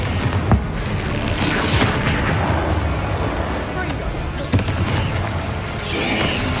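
Bombarda blast spells and other combat magic in Hogwarts Legacy, loud booming explosions and sharp impacts over dense battle noise, with sudden hits near the start and midway.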